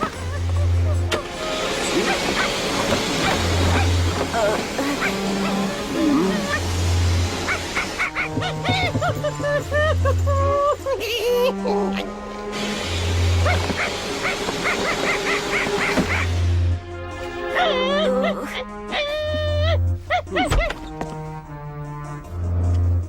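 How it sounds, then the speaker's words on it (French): A dog barks repeatedly in short, evenly spaced low woofs against busy animated scene sounds and effects, with voices speaking in between. "C'est bizarre, on aurait dit un chien."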